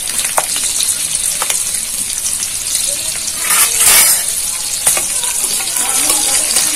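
Fenugreek seeds, dried red chillies, bay leaves, green chillies and sugar tempering in hot oil produce a loud, close sizzle that swells into a gushing burst midway before settling back to a steady fry.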